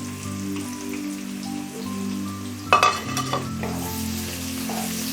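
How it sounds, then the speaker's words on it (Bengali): Chopped onion and capsicum drop into hot oil, producing a sudden burst of loud sizzling over a low background hum, then a steady crackling fry. "আমার তেল গরম হয়ে গেছে, আমি এখানে পেঁয়াজ কুচানো দিয়ে দিচ্ছি আর ক্যাপসিকাম দিয়ে দিচ্ছি"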